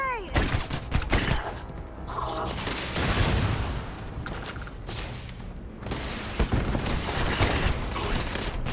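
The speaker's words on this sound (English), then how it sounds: "Throwing a grenade!" Rapid bursts of gunfire from the video game Starfield, with booming explosions from a thrown grenade, loud and dense throughout with heavy impacts and scattered speech mixed in.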